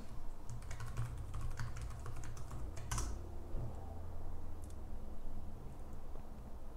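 Rapid keystrokes clatter on a computer keyboard as an install command is typed, with several sharper key strikes over a steady low background hum.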